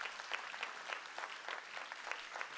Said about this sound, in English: nous applaudit bien, bien fort tout ça,